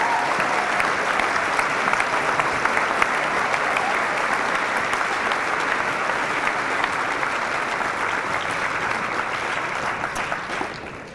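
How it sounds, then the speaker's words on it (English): Audience at a high school academic award ceremony applauding graduating seniors, steady dense clapping from a large crowd that holds evenly for the whole stretch before tapering at the very end. "How about a big round of applause for our seniors?"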